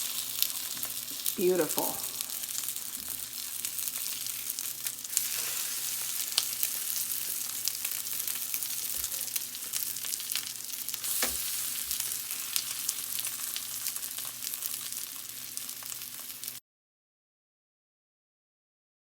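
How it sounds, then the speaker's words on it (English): Meat jun slices pan-frying in oil, a steady, dense sizzle that holds evenly at close range, with a brief spoken remark near the start. "we're just gonna pan fry them until they're golden brown on one side and then flip"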